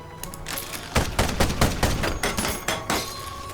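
A mech fires a weapon volley in the game Ironcast, a rapid, dense barrage of overlapping bangs and blasts rattling on for a few seconds with a brief crashing tail.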